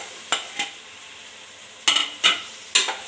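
Carrots, beans and peas stirred in a cooking pot with tomato and oil, heard as five short scraping strokes over a faint sizzle, near and with no voices.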